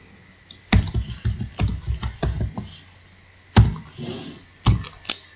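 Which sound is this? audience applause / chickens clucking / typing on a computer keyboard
typing on a computer keyboard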